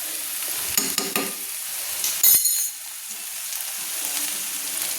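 Potatoes with turmeric and spices being stirred in a frying pan: a close sizzle with several scraping, clattering spatula strokes early on, then a quieter steady fry and no talking.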